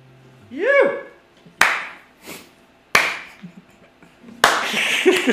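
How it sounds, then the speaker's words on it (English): A few slow, separate hand claps ring out in a live studio session, each a sharp broadband smack with a short decay, spaced more than a second apart, with a brief vocal sound at the start. "Slow clap."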